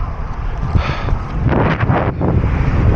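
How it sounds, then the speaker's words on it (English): A headwind breeze gusts outdoors, a loud rumbling buffet of wind against the microphone that swells and dips throughout, with no voices. "Right now, I'm happy with the breeze."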